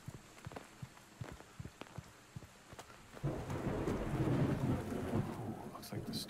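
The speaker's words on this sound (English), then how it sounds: "Storm hit us pretty bad." Thunderstorm in the video game Reveil: scattered drips and light rain patter at first, then a loud rolling rumble of thunder swells in over heavy rain and sustains to the end.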